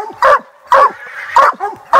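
Walker hounds bay at a tree during a hunt, sounding several loud, spaced barks and yelps close by in a steady rhythm.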